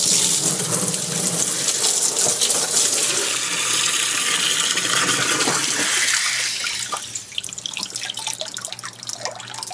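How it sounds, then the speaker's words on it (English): Tap water gushes steadily into a tub being filled with about 40 litres for a rust-removal electrolysis bath, a loud continuous splashing rush that eases slightly toward the end. "going to start by putting about 40 litres of water into our tub."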